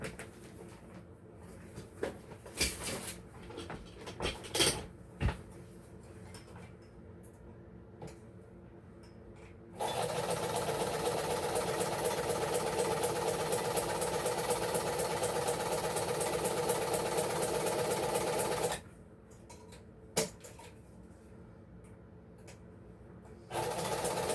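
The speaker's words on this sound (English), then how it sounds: "I'm going over to my sewing machine to sew around this. So you're going to hear that in the background" A sewing machine whirs steadily through a long run of stitching, framed by scattered clicks and handling noises before and after.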